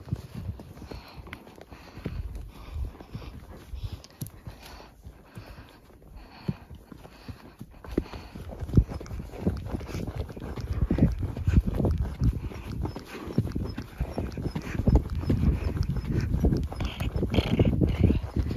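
A newly arrived horse walks along at a stable, its hooves clip-clopping in a steady, close rhythm that grows louder and more continuous over outdoor rustle, with no talk.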